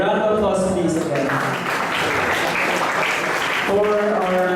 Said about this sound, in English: A round of applause please again.